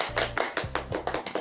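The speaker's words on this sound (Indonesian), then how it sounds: "Kalau kau senang hati tepuk tangan" A small group claps in rhythm along with a sung children's action song during a group guidance session, several sharp claps per second over a low sung melody.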